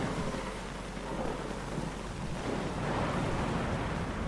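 Steady heavy rain with low rolling thunder in the game The Suicide of Rachel Foster, a dense continuous wash of sound without pauses, no voices present.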